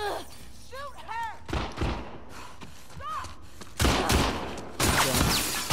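Gunfire in The Last of Us Part II: several sharp shots and thuds in bursts, the last two louder and close, with shouting and game sounds around them.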